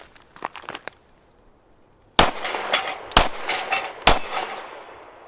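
Star Model BM pistol shots ring out against a steel plate rack: a few faint pops, then three loud sharp reports with metallic clangs spaced about a second apart, each followed by a fading ring.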